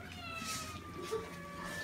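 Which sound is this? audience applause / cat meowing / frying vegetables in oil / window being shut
cat meowing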